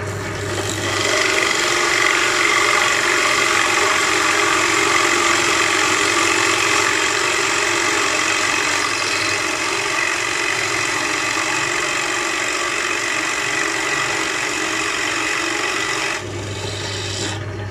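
A Procraft BD 1850 pillar drill whirs loudly at high speed with a harsh grinding rasp, running steadily before cutting back near the end.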